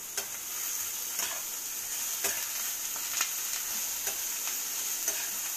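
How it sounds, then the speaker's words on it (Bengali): Small fish fry in spiced oil in a pan with a steady, continuous sizzle throughout and faint crackles and pops scattered over it. "এখানে চুনো মাছটা ভাজা আছে"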